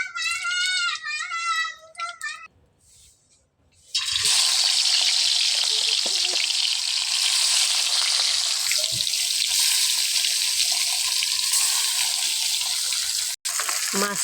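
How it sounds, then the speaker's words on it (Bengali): Hot oil sizzles loudly and steadily in a heated wok as fish fries, a broad hiss that starts after a few seconds of quieter sounds and holds for about ten seconds. "মাছটা লাল লাল করে ভেজে নেব।"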